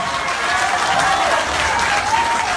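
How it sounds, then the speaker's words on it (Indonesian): Crowd applause at a public gathering, a loud, even roar of many people clapping held throughout, with murmuring voices blended underneath. "tepuk tangan untuk Ahok"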